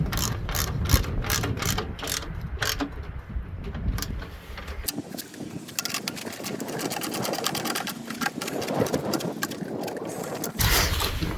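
A ratchet tightens a bolt on a snow blower during DIY maintenance, giving close, loud runs of rapid mechanical clicking with short pauses between strokes.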